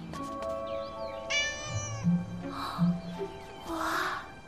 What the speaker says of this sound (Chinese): 好可爱的小猫咪